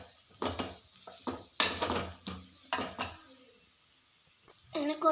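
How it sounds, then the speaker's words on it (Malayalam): A spoon stirs a dish in a metal pan with several sharp clinks and scrapes in an irregular rhythm, a faint sizzle underneath, and a voice briefly at the end. "അപ്പോൾ അതേ നല്ലതായിട്ട് ഇളക്കി കൊടുക്കുന്നുണ്ട്."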